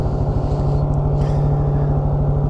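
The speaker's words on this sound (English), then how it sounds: "I can hear these boats going up the Cowlitz" Loud, close engine drone with a fast regular throbbing, a motorboat running steadily up the Cowlitz River, continuous throughout.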